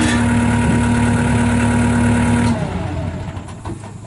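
A 1994 Bobcat 743B skid steer engine idles loudly and steadily up close, then its note drops and softens about midway and runs on at a lower, rougher level.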